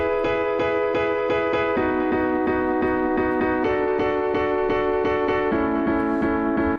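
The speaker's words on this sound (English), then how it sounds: "here's the major example of that same piano riff." A piano riff played as bright major-chord rave stabs with delay, reverb and compression, short chords repeating in a quick even pulse and shifting pitch every couple of seconds, loud and up front.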